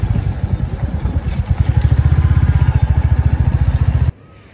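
A motorcycle engine on a trip to the Himalayan village of Malana, running loud and close with a steady, rapid thumping pulse that cuts off abruptly near the end.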